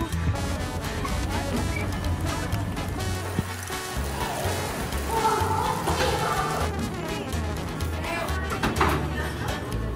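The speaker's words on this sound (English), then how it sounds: "It's raining." Steady rain hisses over a busy street in Acatic, Jalisco, Mexico, with passing traffic and people talking nearby.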